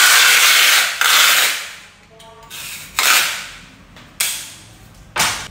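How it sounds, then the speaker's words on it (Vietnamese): A large roll of adhesive tape being pulled out and cut while cleaning a television. Several loud ripping bursts each trail off, with short pauses between them and no talking. "quý vị và các bạn sẽ cắt cho mình một miếng băng dính như thế này"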